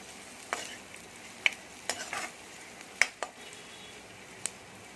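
Onions with turmeric fry in a pan, with a soft low sizzle under a few sharp clicks and scrapes of a spoon against the metal, spaced irregularly.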